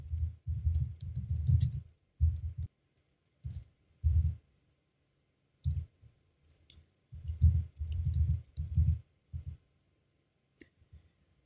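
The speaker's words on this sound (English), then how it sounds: "so let's type out our command now with the correct UTC date." Bursts of keystrokes on a computer keyboard as a command is typed into a terminal while setting up Whonix Gateway in VMware, clustered clicking runs separated by short pauses, close and fairly quiet with no talking.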